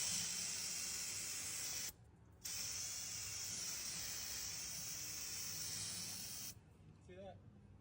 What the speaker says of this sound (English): I'm gonna get some brake cleaner and kind of clean it off a little bit